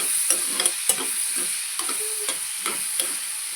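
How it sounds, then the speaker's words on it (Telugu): Onions frying in a pan for a stuffed brinjal curry, a steady hiss of sizzling with regular scraping stir strokes close by, no voices. "ఉల్లిపాయలు కూడా కలర్ చేంజ్ అయ్యే వరకు వేసుకోవాలండి"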